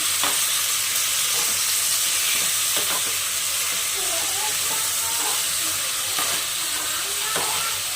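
Onion and tomato sizzle and fry in a pan while being stirred, producing a steady hiss with intermittent scraping clicks and stirring sounds throughout, close and fairly loud, with no talking.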